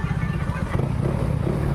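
A Yamaha Mio i 125 scooter with its engine upgraded to 160cc idles close by, a steady low pulsing hum with light mechanical clatter and no revving.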